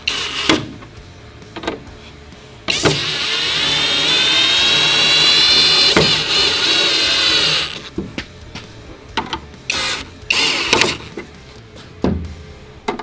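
A power tool torques down bolts on offroad light guards for an Ineos Grenadier and Quartermaster, giving a steady, loud whirring run of about five seconds, with scattered sharp clanks and taps before and after.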